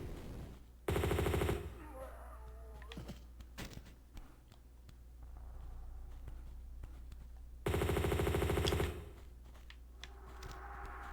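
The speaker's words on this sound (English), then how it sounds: "we have an auto rifle" Automatic rifle fire in the Tomb Raider II Remastered video game, two long loud bursts of rapid shots a few seconds apart, with softer game sounds and thuds between them and no talking.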